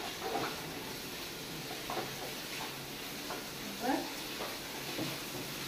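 Onions and tomatoes frying in a pan for a green egg masala, a steady soft sizzle with occasional stirring scrapes and clinks close by, no talk over it.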